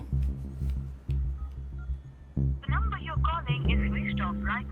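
A phone being dialed gives a series of steady key tones over a low mains hum, and then a voice speaks over the tones in a Hindi-dubbed film scene.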